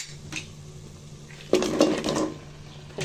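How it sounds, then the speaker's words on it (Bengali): Goat head dropped into a pot of fried spice paste, giving a sudden clatter and clanking of cookware midway, followed by softer scraping and handling noises. "এখন দিয়ে দিব খাসির মাথাটা।"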